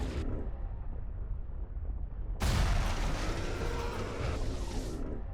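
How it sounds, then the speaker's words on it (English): A sudden loud explosion in the game Last Train Out, a heavy broadband blast that erupts after a quiet stretch and rumbles on for a few seconds before cutting off. "You almost jumped into an explosion"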